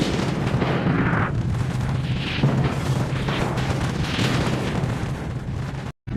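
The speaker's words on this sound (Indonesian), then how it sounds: "Pada tanggal 6 dan 9 Agustus 1945, bom atom meluluhlantahkan kota Hiroshima dan" Atomic bomb explosion sound effect, a sustained roaring blast with rolling rumbles and bursts that stays loud throughout, then cuts off abruptly.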